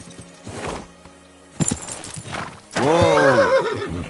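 A horse in Kingdom Come: Deliverance II clip-clops at speed, then lets out a loud, long whinny, the hoofbeats and neigh close and prominent.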